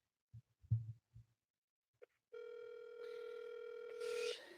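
A telephone ringback tone during a real estate cold call, a steady tone that rises suddenly from silence after a few faint taps and holds loud and close.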